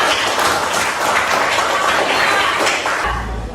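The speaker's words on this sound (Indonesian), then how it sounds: "Tepuk tangan untuk kita semua." A classroom of students applauds together in a dense, loud, continuous round of clapping that fades slightly at the end, with no one speaking.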